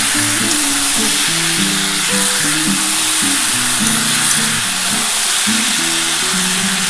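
Capsicum and mixed vegetables hiss loudly in a pan with water just added, a steady, dense sizzle lasting throughout, with faint low melodic tones underneath.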